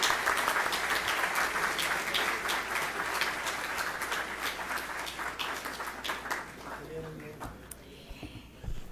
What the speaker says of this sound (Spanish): Démosle un aplauso que le va a tocar la presentación.